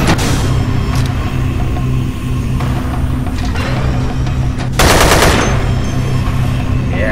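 Rapid, continuous gunfire from a weapon in the sci-fi shooter Dead Effect rattles on loudly and steadily, with a sharper, brighter blast near the end.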